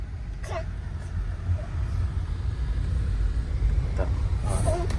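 A car with power steering drives along a potholed road, its low engine and road rumble steady and close from inside the cabin, with brief voices and faint clicks over it.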